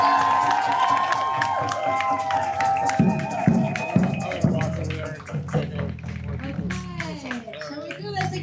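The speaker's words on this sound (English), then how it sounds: "Let's give it another round of applause." Crowd cheering and clapping at an outdoor protest gathering in Vancouver, loud and sustained for several seconds, with shouts and voices mixed in and a few sharper claps standing out midway.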